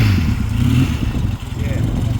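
Yamaha RD350 LC twin-cylinder motorcycles idling nearby at a bike gathering, a steady low throbbing engine burble throughout, with people talking over it.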